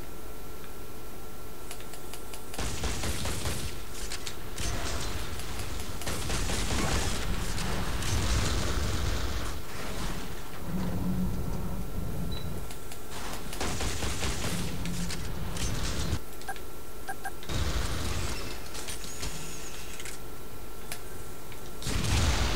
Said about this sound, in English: Rocket launcher to the face, yo